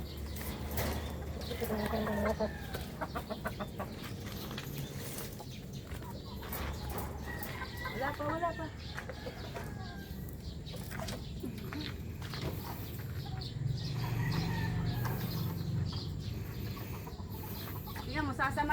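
Incubator-hatched White Kelso chicks cluck and peep in a busy, continuous chorus, close by, with scattered clucks and rustling throughout and no one talking.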